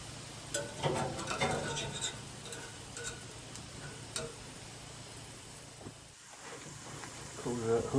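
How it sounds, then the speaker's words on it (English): A big seasoned ham steak cooks on a grill at a hunting camp, giving a steady low sizzle with faint clinks and scrapes, while a voice talks nearby. "Big old ham steak cooking."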